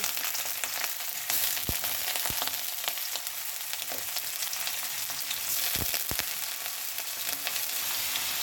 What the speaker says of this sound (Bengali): তেল দিয়ে দিলাম পেঁয়াজ দিয়ে দিচ্ছি চিংড়ি মাছটা কাটা দিয়ে দিচ্ছি